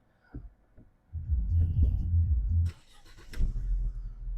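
A 2008 Audi A4 B7 1.6 MPI petrol engine rumbles low and steady at close range, with a brief dip partway through and a few clicks and knocks on top.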